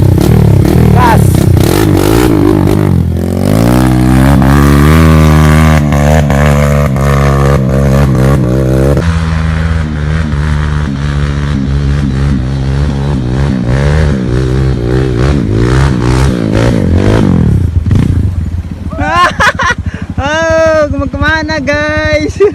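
Kawasaki KLX and Honda CRF dirt bikes revving hard on a steep off-road climb, loud close engines rising and falling in pitch, with bursts of throttle and clattering near the end.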